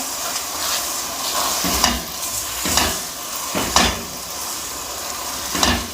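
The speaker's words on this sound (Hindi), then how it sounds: "अच्छे तरीके से हम इन्हें मिक्स करेंगे" A spoon or spatula scrapes and tosses handmade Punjabi seviyan in a hot pan, giving a soft continuous sizzle broken by about four distinct stirring swishes at uneven intervals.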